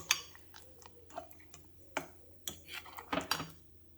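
Chocolate chunks are gently mixed by hand into thick pancake batter, giving sparse soft clicks, scrapes and wet squelches at close range, quiet and irregular, with no talking.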